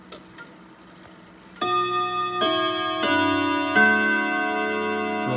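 A Kenji clock ticks softly at first, then strikes a series of loud, ringing chimes that overlap and linger with a long bright resonance.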